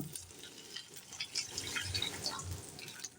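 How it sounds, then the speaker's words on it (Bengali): A small splash of water poured into a pan of Bengali mustard tilapia curry with fried eggplant pieces, a soft wet trickle and bubbling heard close up for a few seconds, with no talking. "সামান্য একটু জল দিয়ে দিলাম"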